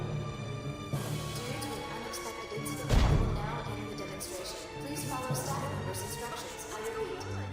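Glass shattering in the Xenosaga Episode III video game, a single sharp crash around the middle that rings out briefly over a busy bed of game music and effects.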